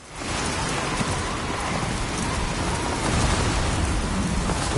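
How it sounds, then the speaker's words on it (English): A heavy rainstorm roars as a dense, steady wash of rain in the video game Death Stranding 2, with low rumbles of thunder rolling underneath and no pause throughout. "Storm's coming through."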